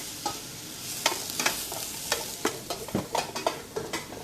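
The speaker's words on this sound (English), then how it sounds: "keep that stirred as quickly and as evenly as possible to cook that" Food being stirred quickly and evenly in a sizzling pan with dried herbs, a utensil scraping and knocking in irregular close strokes over a steady frying hiss.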